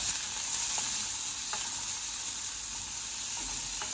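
Chopped onion and green chilli sautéing in a pan for a chembu thoran, a continuous bright sizzle and crackle at an even level, with a few faint scrapes of stirring.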